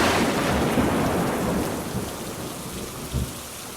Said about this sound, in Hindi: बारिश इतनी तेज हो रही है और ये तूफान जैसे सब कुछ उड़ा कर ले जाएगा